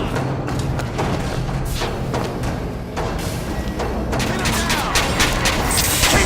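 Gunfire in the video game Bioshock Infinite: a dense, continuous barrage of shots and heavy thuds over several seconds, loud and busy, with faint voices mixed into the din.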